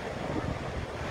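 A steady roar of ocean surf with strong waves at a beach, mixed with breezy wind rumbling against the microphone, loud and continuous.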